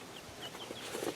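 Soft clucking and chirping from chickens close by, with faint scuffling, over a low background hum.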